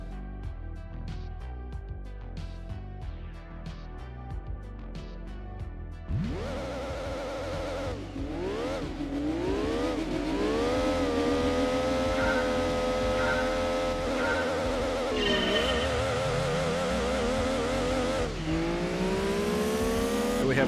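Race car engines in Gran Turismo 2 rev and shift continuously during a Midship Challenge race, loud, rising and falling pitches layered over one another, following a short stretch of menu music.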